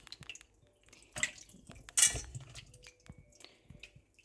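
Pork pieces go into a pan of water while cooking white adobo, giving a few quiet wet plops, drips and clinks against the pan, with no one talking.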